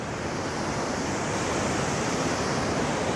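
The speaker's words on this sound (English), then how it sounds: "So you can see the water is crashing down over there." Waterfall in the Rocky Mountains, its water crashing down into white water, a broad, steady roar with no breaks and no voices.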